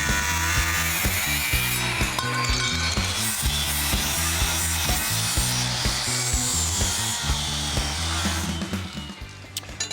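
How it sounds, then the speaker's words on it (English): A power saw cuts through the lower section of a steel truck chassis frame on a Chevy race truck, grinding in a loud, steady rhythm of repeated strokes with no talk. "I'll trace our line out on the chassis, and then just cut the lower section off the frame."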